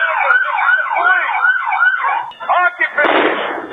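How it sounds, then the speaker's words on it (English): A police siren wails loudly in a rapid up-and-down yelp during an ATF raid on a home, then breaks off into a burst of noisy static. "Flashbang, they throw on the sirens"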